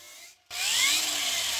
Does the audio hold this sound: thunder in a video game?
no